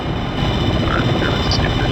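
Helicopter in a flight video game with a damaged tail rotor, its steady rotor thrum and engine whine sounding continuously and fairly loud with a muffled low throb throughout.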